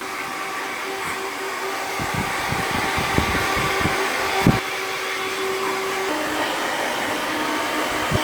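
A hair dryer blows steadily at close range while a man's hair is dried during a barbershop short back and sides cut, a constant airy whoosh with faint clicks and bumps underneath.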